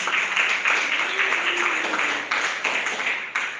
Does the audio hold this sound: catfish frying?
no